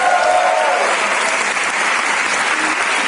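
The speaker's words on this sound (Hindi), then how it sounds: "ये है एक रोल मॉडल, जोरदार तालियां उनको" Loud, dense audience applause at an entrepreneurs' business meeting in India, steady and sustained throughout without any speech on top.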